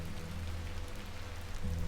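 Steady rain falls throughout an outdoor scene in the adventure game The Excavation of Hob's Barrow. The hiss is soft and even, with a low rumble beneath it and no voices.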